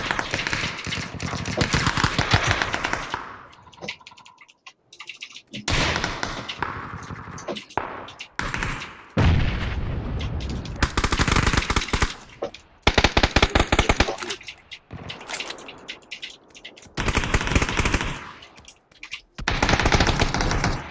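Rapid bursts of automatic gunfire from a PUBG PC match, loud and close, firing in repeated long volleys with brief gaps between them.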